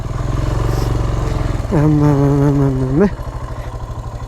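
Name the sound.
motorcycle engine running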